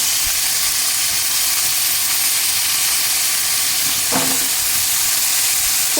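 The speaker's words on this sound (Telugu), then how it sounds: "ఆనియన్స్ వేగుతున్నాయి కదా, వంకాయలు వేస్తున్నానండి" Onions and stuffed brinjals fry in a pan of hot oil, a loud, dense, steady sizzle close up, with a single brief clink partway through.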